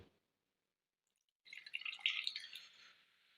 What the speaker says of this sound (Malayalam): കുറച്ചും കൂടെ പുളിവെള്ളം കൂടെ ഒഴിക്കുന്നുണ്ട്